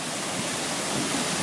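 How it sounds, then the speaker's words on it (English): Water rushes out of the North IRC canal spillway gate in a dense, roaring wash of white noise, loud and unbroken across the short moment. "because you can see water is spewing out"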